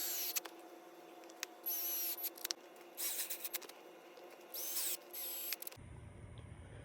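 Short bursts of a small power driver whirring near and loud as screws are tightened to join the pieces of an Aeroflow Dynamics front bumper lip for a 2024 facelift Hyundai Elantra N, with brief pauses between bursts.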